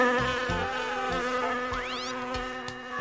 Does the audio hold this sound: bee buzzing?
yes